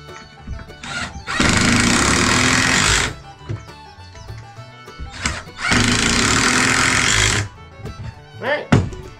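A power drill whines loudly in two sustained bursts of about two seconds each, boring pocket holes in wood, with clunks and handling noise between them.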